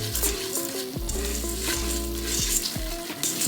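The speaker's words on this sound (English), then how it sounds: "So we're gonna saute this for about a minute." Couscous sautéing in oil in a hot Instant Pot, a loud close sizzle and frying hiss with stirring scrapes, no speech over it.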